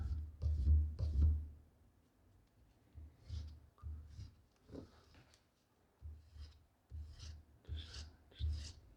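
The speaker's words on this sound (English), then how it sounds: "I'll then take my sandpaper, my 220 grit, keeping it at a 90-degree angle, and just kind of" 220-grit sandpaper rasps against a wooden stock spacer in short strokes, a quiet, close scratching that comes in uneven bursts with pauses between them.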